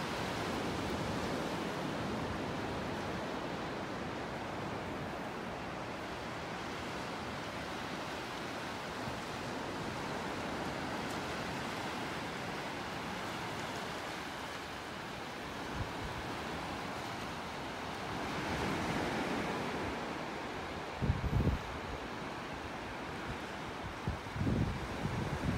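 Ocean waves wash continuously onto a beach in North Naples, Florida, a broad steady roar of surf mixed with wind noise on the microphone, with a few brief bumps near the end.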